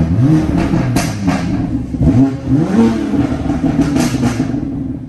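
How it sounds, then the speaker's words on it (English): A BMW M3 engine idles and revs while warming up after sitting for a while, a loud, close, throaty rumble that swells and dips in several rev surges over a few seconds. "I was just letting the car warm up because it's been sitting for a while"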